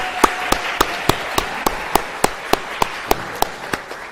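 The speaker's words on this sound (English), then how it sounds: "Let's give him a round of applause." An audience claps for a pianist at a university gallery lecture event. The claps are crisp and evenly spaced in a steady rhythm, sounding close and fairly sparse rather than like a dense crowd.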